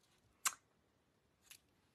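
Scissors snip through ribbon, two short sharp cuts about a second apart, close and quiet, with no talking.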